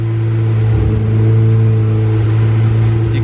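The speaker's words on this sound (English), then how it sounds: "You can hear it spitting and popping a little bit." Turbocharged Honda Civic engine running rich, a loud, close, steady mid-pitched drone with a brief dip and rough irregular texture, no speech.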